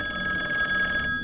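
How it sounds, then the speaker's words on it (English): A hotel telephone rings with a bright, trilling electronic bell, one sustained burst of ringing that cuts off near the end, fairly loud and close in a quiet room. "It was the hotel phone."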